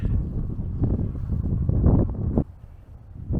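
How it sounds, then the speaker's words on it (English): Wind gusting across an exposed hilltop in France, a loud, steady low rumble buffeting the microphone, easing off briefly near the end. "Quite windy today."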